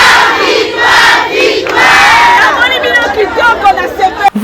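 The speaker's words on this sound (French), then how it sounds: "Madame Julienne Mabiala Mongo est la toute première femme au Mai-Ndombe qui a réussi de réunir une telle foule" A large crowd at a public gathering in Mai-Ndombe shouts and cheers loudly and continuously, with a dense wash of voices rising and falling and bursts of yelling throughout.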